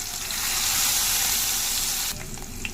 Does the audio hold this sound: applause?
no